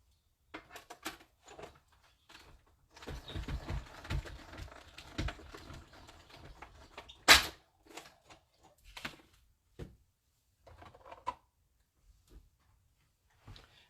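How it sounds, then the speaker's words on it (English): A paper card piece goes through a die cutting machine, giving irregular clicks and a soft grinding stretch, a sharp loud snap near the middle, then sparse ticks, close and fairly quiet with no talk. "I'm just going to die cut this."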